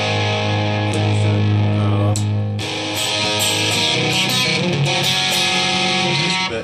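Electric guitar run through a tone choke set to position 7, cutting the low mids, played as sustained distorted chords with a brief break before a fuller strummed passage; loud and close, no talking.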